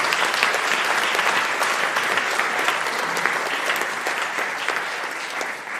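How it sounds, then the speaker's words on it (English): Applause for the judges at the Cornwall Heritage Awards 2024 evening ceremony: a full room clapping steadily and loudly throughout, tapering slightly toward the end. "I think you all deserve a round of applause"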